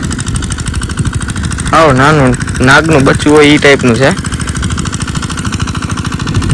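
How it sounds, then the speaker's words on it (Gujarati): A mini tractor in a nearby field runs with a steady, throbbing engine drone that continues under someone talking briefly, the motor audible throughout. "બાજુના ખેતરમાં આપણે હાલતું હતું મિની ટ્રેક્ટર, જે શિંગડાવાળું છે"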